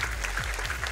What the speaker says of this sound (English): Can I get another round of applause for TMR for that?